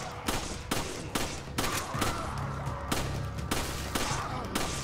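Rapid gunfire bursts from the video game Resident Evil 5, sharp repeated shots in a quick irregular rhythm over a steady game background, loud and close, with no talk.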